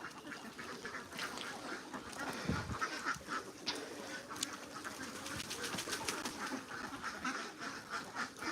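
A flock of ducks quacking continuously nearby, busy overlapping calls with faint farmyard background noise.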